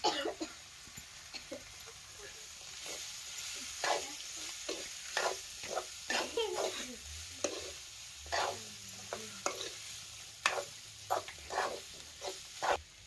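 Hot oil sizzles steadily as a tempering goes into a pan of pumpkin curry being cooked in a village kitchen, with repeated stirring scrapes and a soft voice now and then.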